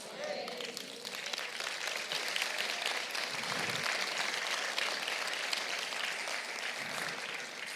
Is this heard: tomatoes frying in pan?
no